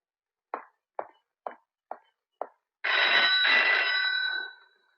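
A telephone in a Hindi film scene rings: five short, sharp taps, then a loud electronic ring that lasts about two seconds and fades out.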